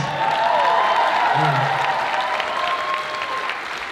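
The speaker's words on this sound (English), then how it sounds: "give you an extra round of applause" An audience gives steady, moderately loud applause with scattered cheers and voices mixed in, the clapping thinning gradually toward the end.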